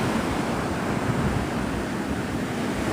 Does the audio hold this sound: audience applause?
no